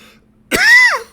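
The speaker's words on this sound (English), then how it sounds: "Oh, here we go again with the cough." A single loud cough or throat-clear from a person, one rough burst that turns into a short voiced, falling groan, heard alone over near silence.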